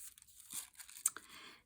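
An old plastic cereal bag is cut open up close, giving faint crinkles and a few short tearing, crunchy snips that come in small bursts.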